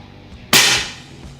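A single sharp, loud crack from a B-Zad Klein VR-2 air rifle fired with its front tank removed, a sudden burst that decays quickly in a short clip with no talking.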